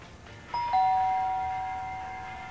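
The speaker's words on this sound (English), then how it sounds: "Ring the doorbell." A doorbell in the video game LAKE gives a clean two-tone ding-dong, the second chime ringing out and slowly fading over quiet background ambience.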